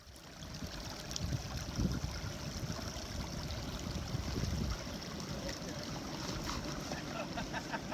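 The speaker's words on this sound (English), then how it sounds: "Stopping at the stream for lunch break." A flowing stream at a lunch stop on a backpacking trip in Shenandoah National Park, its steady watery rush heard softly and continuously with no clear voices over it.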